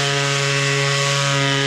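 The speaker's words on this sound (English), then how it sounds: "If I'm trying to just sand down a smooth surface, you don't want to just stay in place because that's going to heat up the sandpaper" A portable power sander runs on a wooden surface, giving a loud, steady, continuous whine with a constant tonal hum and no pauses, close up and alone.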